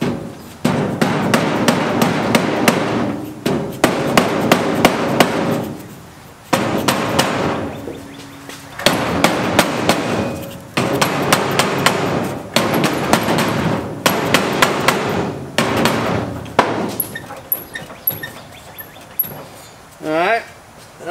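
A hammer pounds a steering wheel off its shaft on a TROG race car build, bursts of rapid ringing metal blows in repeated runs separated by short pauses, loud and close, with a voice speaking briefly in between.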